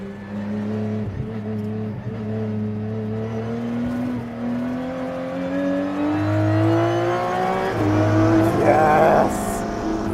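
An Aston Martin Vulcan and a McLaren P1 GTR race on a track, one engine loud and close with a rising, climbing tone under acceleration and shifts, the other car audible nearby, no talking over it.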